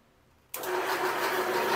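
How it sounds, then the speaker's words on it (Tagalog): Electric motor of a cocopeat pellet maker starts up suddenly after near silence and runs as a loud, steady, buzzing whir close by. "Gumagamit po siya ng electric motor."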